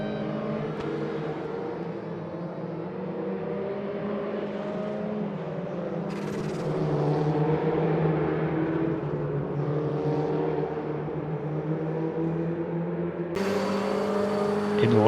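Porsche 944 Cup race cars lapping Oschersleben in the RaceRoom sim, with engines droning in a sustained harmonic whine that swells as the pack runs side by side and climbs again near the end, with commentary faintly underneath.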